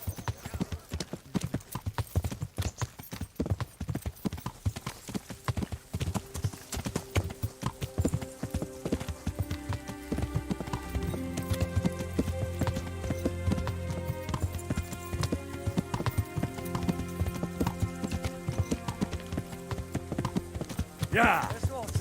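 Horse hooves clip-clop steadily in the medieval role-playing game Kingdom Come: Deliverance, a brisk rhythmic trot running throughout with music and talk over it.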